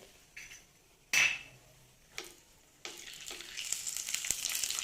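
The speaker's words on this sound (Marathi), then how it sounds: "जिऱ्याचा तडका देणार आहे सो जिरं आणि हिंग" Cumin and asafoetida hit hot oil with a sharp crackle, then a steady sizzle builds and continues, punctuated by a few clinks of a utensil.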